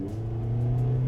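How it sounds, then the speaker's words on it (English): Toyota Corolla Altis engine at full throttle, a steady rising drone with a strong low tone and strained upper harmonics, close and continuous throughout, with no voices. "you can hear the engine screaming in pain"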